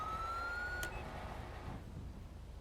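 A police siren in a roleplay driving game wails briefly in a rising tone, then cuts off and fades beneath steady engine and road rumble, fairly faint, with no voices.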